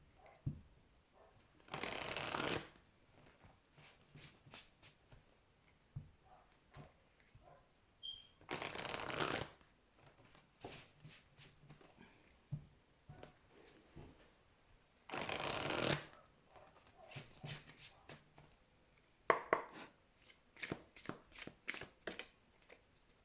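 Shaman dream oracle cards being shuffled in several separate bursts of quick riffling, with softer scattered card taps and handling clicks in between, close and fairly quiet.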